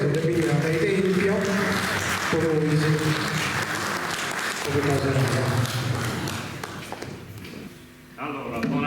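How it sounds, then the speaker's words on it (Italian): An audience at a poetry event claps steadily over a voice that speaks throughout, the applause fading toward the end before a brief swell. "Fate un applauso a Maria Teresa"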